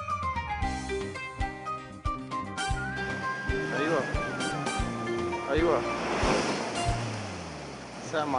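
Sea waves roll steadily onto the shore at Jaffa in a continuous washing surf, mixed with other tonal sounds throughout.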